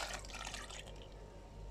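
A cup of milk is poured into cake batter, a soft, brief liquid splash and trickle at close range, quiet and fading after about a second.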